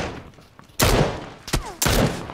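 Three sharp, loud sniper rifle shots in a video game ring out at uneven intervals within about two seconds, each followed by a short decaying tail over quiet game ambience.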